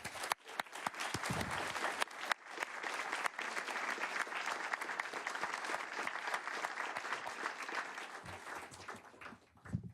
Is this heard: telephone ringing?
no